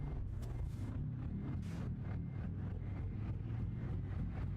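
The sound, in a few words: vehicle engine running in a video game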